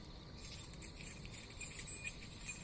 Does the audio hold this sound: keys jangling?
yes